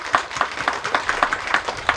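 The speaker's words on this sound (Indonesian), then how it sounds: "Mari kita berikan tepuk tangan yang meriah" Clapping at a thanksgiving mass for a group that performed the traditional Bungwani dance, heard as a close, regular rhythmic beat of claps, roughly three or four per second, in unison.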